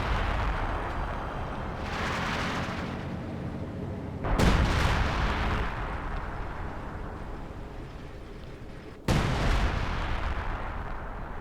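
Loud artillery barrages in the World War II strategy game Company of Heroes 2, with heavy rumbling blasts and sharp shell impacts, two strong bursts landing around four and nine seconds amid continuous battlefield din.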